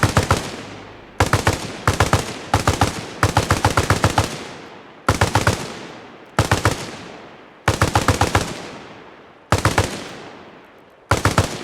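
Machine gun suppressive fire in Arma Reforger sounds as repeated loud, close bursts of rapid automatic shots, each burst trailing off into a reverberant tail before the next begins.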